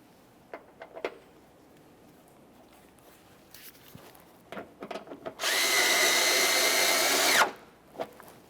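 A power drill runs in one steady two-second burst, driving a mounting screw into the fender liner of a 2010-2013 Kia Forte Koup, after light clicks and handling noises; the whir is loud and close.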